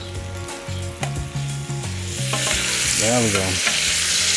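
Ham, chorizo, bacon and minced meat sizzling together on a hot grill, a loud continuous close-up hiss that swells as the meat is pushed around, with someone speaking briefly over it.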